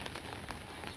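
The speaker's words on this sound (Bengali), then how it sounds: "প্রচুর পরিমাণ আসলে বৃষ্টি" Heavy rain falls on a farm, a dense, even patter of drops at low volume lasting a single second with no voices.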